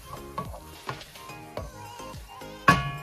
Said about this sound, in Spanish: Seguimos sofriendo estos sazones para cuando ponga la longaniza tenga todos esos sabores ya